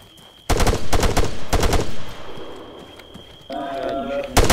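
Rapid bursts of airsoft gunfire crackle during a tactical night game, several sharp volleys close by in the first two seconds, then a quieter lull and renewed noisy activity near the end.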